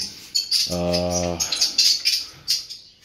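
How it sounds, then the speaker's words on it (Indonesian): Swiftlets inside a swiftlet nesting house give a string of high, sharp chirps, with one lower, tonal call partway through, heard close and loud. "burung walet tenggorokannya itu besar karena dia terbiasa membuat sarang"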